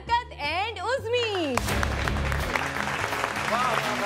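Talk-show studio audience breaking into steady applause to welcome guests, starting right after a short musical phrase and continuing evenly to the end, with faint voices underneath.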